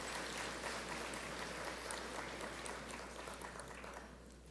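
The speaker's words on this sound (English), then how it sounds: "please give a round of applause to the combined Bahamas Police Force and Bahamas Defense Force bands" A round of applause rises from the audience at a national honours and investiture ceremony in the Bahamas, greeting the combined police and defence force bands, a steady dense clapping wash heard from a distance that slowly fades.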